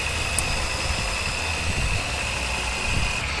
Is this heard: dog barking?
no